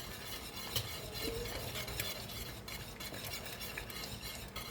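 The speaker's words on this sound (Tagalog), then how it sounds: "shake mo lang, shake hanggat mag-sticky na siya" Maja blanca mixture being stirred in a pan as it thickens toward sticky, a faint soft scraping and shuffling close by, low and continuous with a few light clinks and no voices.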